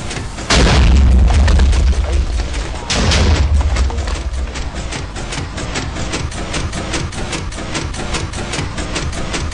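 Minecraft cannon firing: two heavy booms in quick succession followed by a rapid volley of sharp cracking shots, loud and close.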